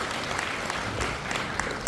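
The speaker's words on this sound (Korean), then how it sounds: "우리 모두 큰 박수로 민병덕 국회의원을 주십시오" An audience applauds at a residents' meeting on an apartment complex reconstruction in Korea: dense, steady clapping from a crowd filling the room, with no break through the short stretch.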